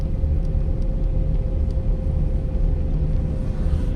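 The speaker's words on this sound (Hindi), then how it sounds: "इंजन ब्रेकिंग बोलते हैं इसको" A car descending in gear under engine braking, producing a steady low engine drone with a constant hum from inside the cabin, loud and unbroken throughout with no talking.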